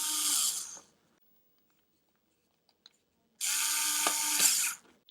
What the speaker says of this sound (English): that's the GoGonova cordless screwdriver